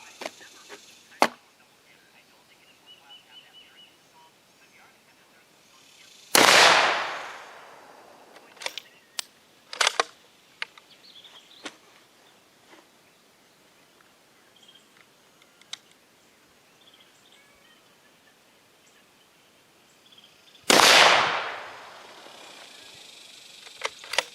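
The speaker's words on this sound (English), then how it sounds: "I'm going to shoot at the bottom target. And I'm going to do 5 shots." Two loud rifle shots from a Mossberg MVP Varmint fitted with a compensator crack out about fourteen seconds apart, each with a sharp blast and a long decaying echo at an outdoor range, with small clicks and handling noises between them.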